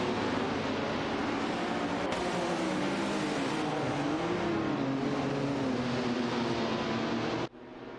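A Ferrari 312 PB and an Oslo Par 9 race car in a racing video game, engine notes droning loud and continuous with wavering pitch as revs rise and fall, then cutting off abruptly near the end.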